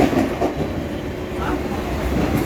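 A Mumbai local commuter train runs along the tracks, giving a loud, steady close rumble with rail clatter that continues without a break.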